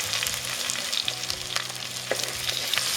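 Shallots, garlic and curry leaves crackle and sizzle steadily in hot oil for a Kerala-style kadala curry tempering, a dense continuous spitting sound close up with no talking.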